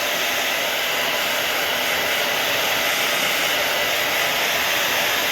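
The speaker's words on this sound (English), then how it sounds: "hit with the blow dryer again" A hair blow dryer runs with a loud, continuous whooshing roar, steady from start to finish, while it dries latex on a bloody gash makeup prosthetic.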